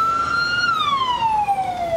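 A fire brigade vehicle's siren wails loud and close in one long, steady tone that slides gradually downward as the engine arrives.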